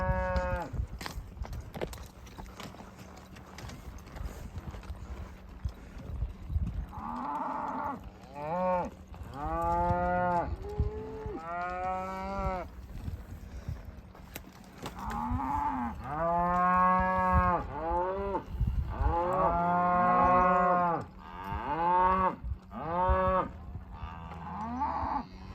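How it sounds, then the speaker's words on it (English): A herd of 20 or 30 cattle at a water tank by an old windmill moo repeatedly, long drawn-out calls overlapping from several animals at varying distances, some loud and near, with no speech. "Oh, it's 20 or 30 cows here."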